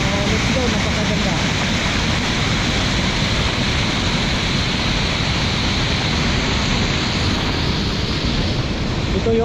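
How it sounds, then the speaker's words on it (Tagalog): Pangadilan Falls in Columbio, Sultan Kudarat, gives off a steady, dense rushing roar of falling water, loud and unbroken throughout, with a voice faintly present beneath the noise. "Yan po ang Pangadilan Falls. Located lang po dito sa Columbio Sultan Kudarat mga idol."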